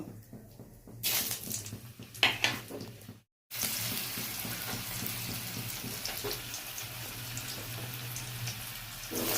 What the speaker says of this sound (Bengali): তেল গরম হয়ে গেছে, জিরে দিয়ে দিলাম